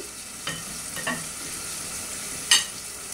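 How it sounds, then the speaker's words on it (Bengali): Peas, garlic, ginger and green chillies stir-frying in a pan, a faint low sizzle broken by a few sharp scrapes and taps of the spatula, no voices. "আবার হচ্ছে এগুলো একটু নাড়াচাড়া করে দিই, এগুলোকে একটু ভালো করে কষে নেব।"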